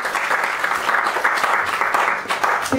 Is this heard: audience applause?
yes